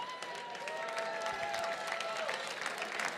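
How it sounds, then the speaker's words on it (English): An audience at a gala auction claps steadily throughout, dense and sustained, with a few whistles riding over the applause. "Can we give them a round of applause?"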